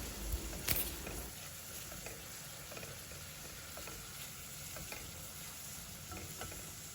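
Onions sautéing in a pan for a spinach stem soup, a soft continuous sizzle with a brief louder clatter of stirring near the start, otherwise quiet and even.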